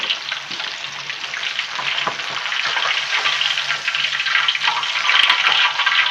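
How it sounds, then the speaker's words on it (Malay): Oil sizzles and crackles loudly and continuously as gourami fish fries in a wok, with no talking. "Ni dah timbul dekat kuali tengah digoreng"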